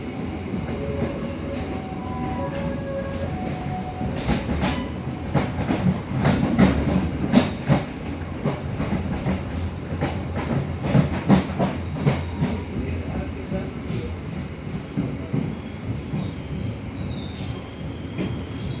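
A local Merak train in Java rumbles steadily along the rails with rhythmic clacking wheels and occasional squeals, heard from inside a carriage, approaching Cilegon station.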